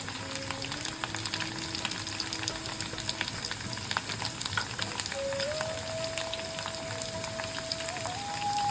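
Potatoes fry in a pan for a vegetarian posto bora dish, a busy, even crackle and sizzle heard close up, with a faint steady whistling tone running in the background.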